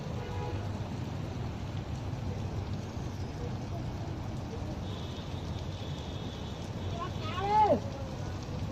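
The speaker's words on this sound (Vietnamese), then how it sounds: "Mưa to rồi đành chạy." Steady heavy rain pouring outdoors on a Hanoi street, a continuous dense hiss with a brief vehicle-like tone near the end.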